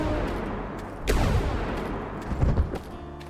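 A booming .700 Nitro Express rifle shot fires in a prehistoric dinosaur-hunting video game, a loud single blast with a long rolling echo, followed by a second thudding impact about a second later.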